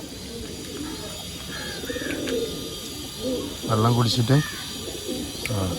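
Pigeons in a loft coo in low, throaty murmurs close by, the cooing swelling louder near the end, while a person speaks briefly over them.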